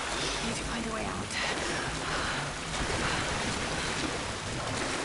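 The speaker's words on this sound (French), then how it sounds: "encore une cascade qui vient d'éteindre la torche" A waterfall in the PC game Tomb Raider (2013) roars as a dense, steady rush of falling water, loud and unbroken throughout, with a faint voice surfacing briefly beneath it.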